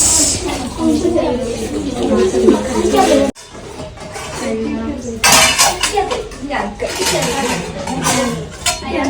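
Plates and cutlery clink and clatter at a busy self-service home lunch, a steady stream of dish sounds running under lively overlapping conversation.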